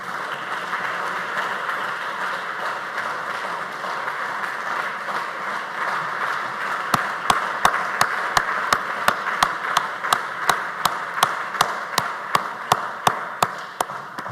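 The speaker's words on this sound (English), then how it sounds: "Ladies and gentlemen, please join me in applauding this historic moment" Rhythmic, evenly spaced hand claps from an audience at a building dedication and honouring ceremony, beginning midway over a steady crowd murmur and continuing crisply to the end.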